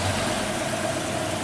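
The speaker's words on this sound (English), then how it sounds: "The thing just fires right up. Just purrs perfectly." A 1968 Ford Mustang convertible V8 with Holley carb and aluminum intake idling, a steady, even low rumble heard up close for a moment with no talk.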